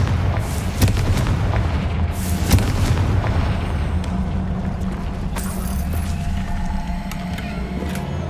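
The Confringo explosion spell goes off in a video game, a loud, heavy boom followed by rumbling, crackling debris and a sustained low roar that lingers for several seconds.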